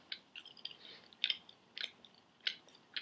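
Close, quiet chewing of Nicorette gum, with soft wet crunching bites in an irregular rhythm of about a half-dozen distinct chomps and no talking.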